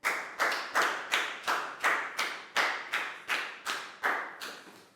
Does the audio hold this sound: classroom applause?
yes